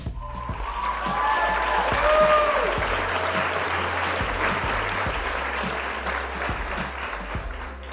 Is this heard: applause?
yes